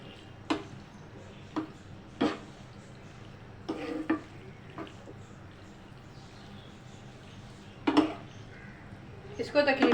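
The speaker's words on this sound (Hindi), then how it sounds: "अब चिकन भी ऐड कर दी।" A spoon scrapes and clinks against a pan as fried chicken is mixed into macaroni, scattered knocks spaced irregularly over a low background hum.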